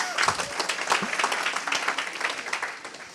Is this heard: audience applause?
yes